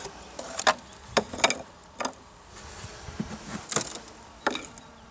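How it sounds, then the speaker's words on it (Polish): A honeybee come to rob, flying around a hive, with short buzzing passes and scattered small knocks and ticks close by, faint against a quiet background. "Jakaś pszczółka przyleciała coś rabować."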